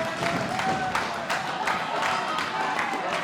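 A wrestling crowd cheers and claps throughout a live event, a steady roar with a sharp burst of claps running through it, heard from within the arena at moderate loudness.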